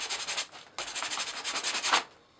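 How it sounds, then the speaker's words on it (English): Painted surface of a scale model truck being scratched for a patina finish, a close, rapid back-and-forth rasping in quick rhythmic strokes, pausing briefly near the start and fading out at the end. "We'll put some deeper scratches in here"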